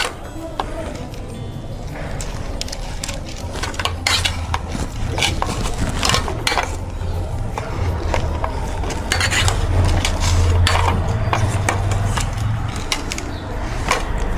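Boiled potatoes mashed with a masher for a bread roll filling, a continuous run of dull thuds, squelches and scrapes against the bowl, with faint talk in the background.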